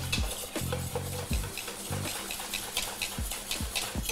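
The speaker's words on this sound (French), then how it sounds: "Et là, on vient mélanger." Cream and mascarpone being stirred together with a spoon or whisk in a bowl, giving a steady, close scraping and sloshing rhythm with repeated strokes, no voices.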